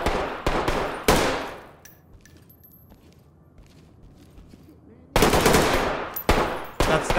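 Gunfire in the tactical shooter game Ready or Not: loud bursts of rapid shots open the clip, fade into a quiet stretch of low ambience, then return as heavy, close automatic fire with a few separate loud shots.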